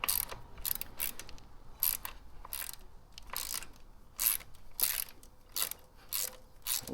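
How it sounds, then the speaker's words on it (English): A wrench loosens a bolt on a Harley shift linkage, using 11 and 13 millimeter wrenches, with bursts of close ratchet clicking repeated in quick uneven runs over a quiet background. "so put my 11 millimeter on the back of it, 13 on this side,"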